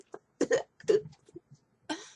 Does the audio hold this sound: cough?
yes